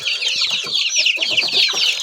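Several chickens and chicks cluck and chatter busily up close, a continuous overlapping flock of short, rhythmic clucks.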